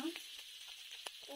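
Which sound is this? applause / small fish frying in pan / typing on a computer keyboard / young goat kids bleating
small fish frying in pan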